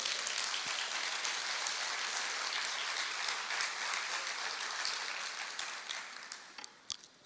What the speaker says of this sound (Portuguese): E você pode aplaudir a Deus por isso?